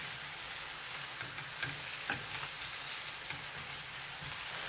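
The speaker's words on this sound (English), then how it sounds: "Stir for 1 minute." Braised pork belly with fish sauce, salt and crushed pepper being stirred in a pot for a Vietnamese thịt kho tàu, giving a steady sizzle with soft scraping and a few light clinks, close and continuous with no talk.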